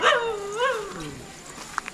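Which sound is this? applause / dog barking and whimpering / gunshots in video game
dog barking and whimpering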